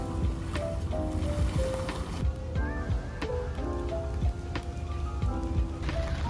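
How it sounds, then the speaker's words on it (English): Light rain falls steadily on Sentosa island, Singapore, a continuous close patter of drops on surfaces with scattered louder plinks, heard alone without any talk. "It's still raining a little bit, but it's nice enough to walk around."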